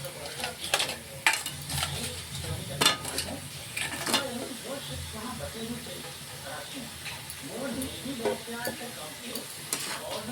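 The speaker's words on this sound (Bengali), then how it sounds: "দিয়ে আমরা এখানে ঠিক মশলার সঙ্গে ক্যাকড়াগুলোকে 2 থেকে 3 মিনিটের মতন আমরা কষিয়ে নেব।" Cleaned crabs being sautéed with spice paste in a hot pan give off a moderate sizzle and hiss, with occasional scraping and clinking as a spoon stirs them. The sound is close.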